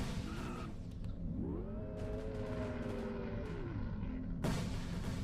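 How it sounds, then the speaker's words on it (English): Fireworks go off in Victory Lane at West Texas Speedway in a racing video game, with booming bursts over a steady engine drone, a rising and falling whine in the middle, and a sharp blast near the end. "And the fireworks go off here at West Texas as the 67 wins the Vista Markets 150."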